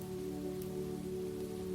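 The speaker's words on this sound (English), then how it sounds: "The rain becomes softer" Steady rain falls on a surface in a quiet alley, a continuous soft hiss with a low, even wash underneath and no voices.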